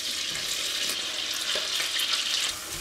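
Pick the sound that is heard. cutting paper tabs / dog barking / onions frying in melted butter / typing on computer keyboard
onions frying in melted butter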